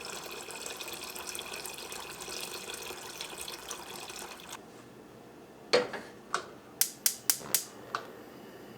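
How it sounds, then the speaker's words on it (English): A cooking pot fills with water from a kitchen tap, a steady close running stream for several seconds that then cuts off, followed by a few sharp clanks and taps of the pot being handled. "Now I'm going to go get my pot and fill it up with some water."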